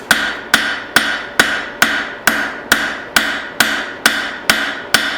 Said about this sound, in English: I'm going to do a little bit of the work with my cross peen